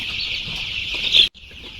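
Dense, high chorus of peeping from about a thousand 17-day-old Sonali chicks crowded in a poultry shed, loud and continuous before cutting off abruptly, then resuming more faintly.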